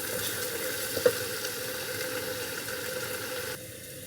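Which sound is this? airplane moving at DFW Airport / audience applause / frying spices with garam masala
frying spices with garam masala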